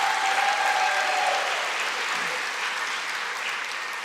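Audience applause at a Melbourne Polytechnic graduation ceremony, a dense sustained round of clapping from a large crowd that stays steady and fairly loud, easing slightly toward the end.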